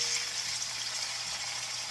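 Chicken pieces seasoned with salt and pepper sizzle steadily in a hot pan for a Mediterranean dish, a close, even hiss of frying with no voices over it.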